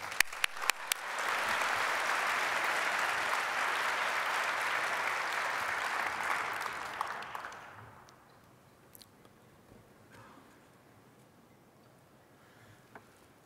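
An audience at a physics lecture applauds to welcome Nobel laureate Barry Barish, a dense, even clapping that holds for about seven seconds, then fades into a quiet room with a few faint knocks.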